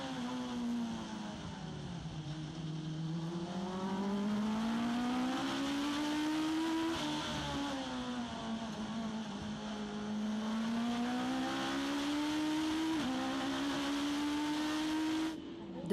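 Mitjet race cars scream past on a circuit straight and brake into the corner, their engine notes rising and falling in long sweeping pitch changes, moderately loud and continuous throughout.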